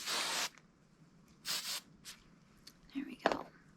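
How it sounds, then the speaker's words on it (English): Close hair spray bursts during an ASMR hair styling session: a long hiss at the start, a second burst about a second later, then a few softer sprays and quiet whispered talk near the end. "And I'm gonna do one last final spray."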